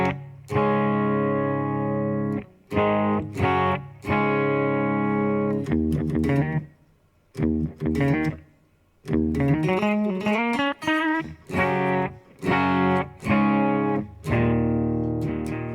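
An electric guitar played through a BOSS eBand JS-10 effects unit, heavily distorted with a chorused shimmer, ringing sustained chords and short melodic runs separated by brief gaps.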